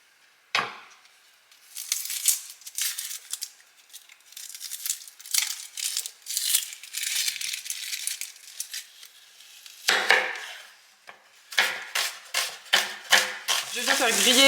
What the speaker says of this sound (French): je vais venir émincer mes oignons